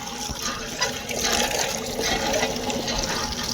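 Water gushes steadily from a village hand pump, a continuous splashing flow with a constant hiss that holds at an even level throughout.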